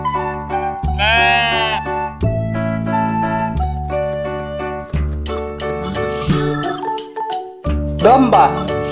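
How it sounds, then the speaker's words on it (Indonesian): Sheep bleat in short wavering calls over a cheerful children's tune, one near the start and another toward the end, both clear above the steady music. "Domba."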